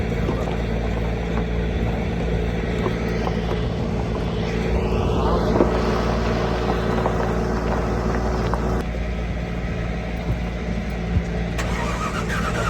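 An engine fires up and runs with a broad steady roar and low rumble, close and loud throughout the clip with no talk over it.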